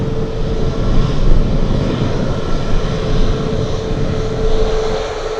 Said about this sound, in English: We have another Alaska 737 taxiing on Yankee.